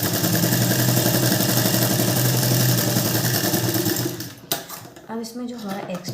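An electric sewing machine stitches a blouse in a steady, fast whirring run that stops abruptly, followed by a few brief clicks and faint handling noises.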